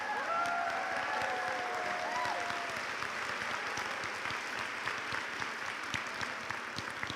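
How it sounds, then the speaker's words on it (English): Loud, sustained applause with some cheering from a crowd honouring standing nursing graduates at a college of nursing pinning ceremony, steady and dense throughout. "you give them a round of applause real loud, or give a shout out of woohoo!"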